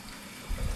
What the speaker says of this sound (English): Turn on the cold water.